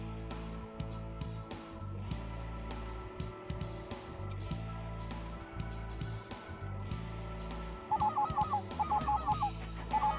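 Snow geese honk in a quick series of nasal calls toward the end, over a constant low droning background, during a goose hunt in South Dakota.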